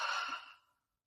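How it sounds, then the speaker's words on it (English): A single open-mouthed exhale during yoga breathing, a soft, airy breath released close by that fades out to silence within under a second. "Take a deep breath in. Open mouth, exhale."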